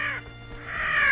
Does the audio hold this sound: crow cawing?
yes